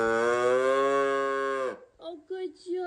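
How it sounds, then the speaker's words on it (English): A long, drawn-out moo from a cow toy, loud and sustained for under two seconds, then a few short, softer squeaky sounds. "Oh, you found your moo. Good job. That's like a full-size moo."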